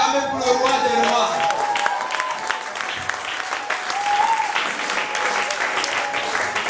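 A church congregation applauding and cheering, sustained loud clapping from many hands with voices rising and calling out over it.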